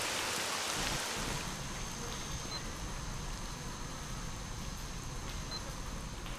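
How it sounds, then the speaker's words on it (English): Steady video game rain hisses continuously at a moderate level, an even wash of falling drops with no voices. "it's raining. We better find some cover inside."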